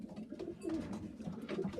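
Pigeon hens in a loft cooing softly and repeatedly, low throaty coos overlapping close by with no talking.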